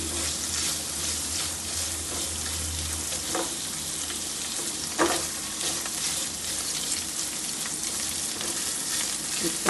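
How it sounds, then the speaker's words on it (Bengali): Cashews frying in a pan give a continuous close sizzle, with occasional soft scrapes and clicks of stirring. "কাজু দিলাম একটু নেড়ে দিচ্ছি"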